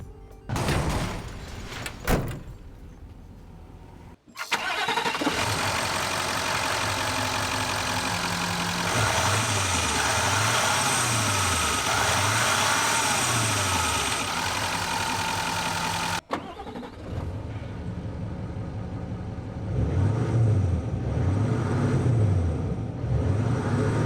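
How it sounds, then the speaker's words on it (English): A Nissan Titan XD pickup with a Cummins 5-liter V8 turbo diesel starts after a door sound, then idles and revs loudly nearby with a steady low rumble, and the engine cuts off briefly before running again. "It's a Cummins 5-liter V8 Turbo Diesel that makes 310 horsepower"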